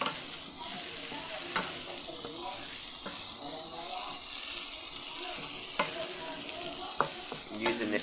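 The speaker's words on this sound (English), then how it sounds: "just going to keep stirring and stirring and stirring" Cajun chicken stirred in a lidless frying pan, an even close sizzle broken by repeated utensil scrapes and clicks against the pan.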